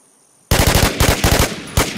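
Rapid automatic gunfire in the Infestation video game bursts in after a brief quiet moment, a loud fast string of close shots with a short pause and a final burst.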